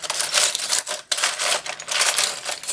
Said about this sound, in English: Sorry for the rustling, it is quite noisy.